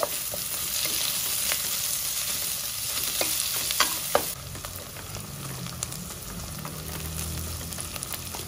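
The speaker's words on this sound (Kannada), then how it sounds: "ಒಂದು 3-4 ಸ್ಪೂನಷ್ಟು ಎಣ್ಣೆ, ಒಂದೆರಡು ಸ್ಟಾರು, ಈರುಳ್ಳಿನ ಚೆನ್ನಾಗಿ ಎಣ್ಣೆಲಿ ಹುರ್ಕೊಳ್ಬೇಕು." Onions fry in a few spoons of oil in a pan for a fenugreek-leaf rice dish, with a steady close sizzle and occasional stirring scrapes.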